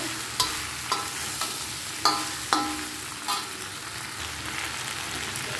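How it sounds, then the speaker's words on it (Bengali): Fried okra and potatoes sizzle steadily in a pan while a spoon scrapes and clacks against it at irregular intervals, close by, with no voices. "এখন আমি সেই ভেজে রাখা ভেন্ডি এবং আলুগুলো দিয়ে দিলাম"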